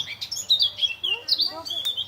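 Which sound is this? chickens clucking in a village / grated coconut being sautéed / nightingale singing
nightingale singing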